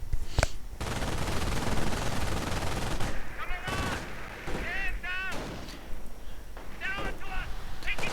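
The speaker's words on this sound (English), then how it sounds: "Sniper sniping away." Gunfire and explosions from a WWII strategy game, with a German sniper among the shooters, form a dense battle mix of sharp cracks and rumbling blasts under a commentator's voice.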